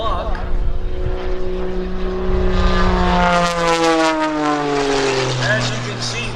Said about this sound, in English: this airplane is very capable of world-class aerobatics